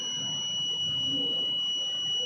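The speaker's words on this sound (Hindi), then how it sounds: "सर बजर पहले से बज रही थी सर" The buzzer alarm of a flood monitoring rain sensor sounds as a continuous steady high-pitched electronic tone, moderately loud and close, over faint background noise.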